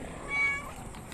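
A female Himalayan cat at a pet market gives one short, faint meow, brief and alone against quiet background noise.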